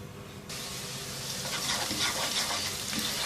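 Two medium onions hit a quarter cup of hot oil in a pot over medium heat, breaking into a steady, bright sizzle that starts abruptly and keeps frying evenly close by.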